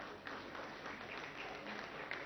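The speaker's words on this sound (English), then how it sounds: "I want to applaud you and be recognized." Audience applause fills a hall at the inauguration of the Alpla Mould Shop and Dual Education Centre, a steady, even patter of many hands clapping at moderate distance, continuous throughout with no voices standing out.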